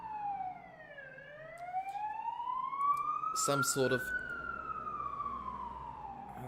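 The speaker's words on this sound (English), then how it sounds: "It sounds like a fire truck again going past." Fire truck siren sweeping up and down in pitch as it passes at moderate distance, with a brief burst of noise in the middle and a person speaking over it.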